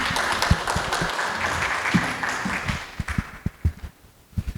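Applause from an academic symposium audience fills the room, dense at first, then thinning into scattered individual claps.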